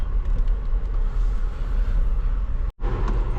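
A 5-litre sports car drives along with a loud, steady low engine rumble, then a brief near-silent gap as a gear shift cuts the sound, after which the engine picks back up.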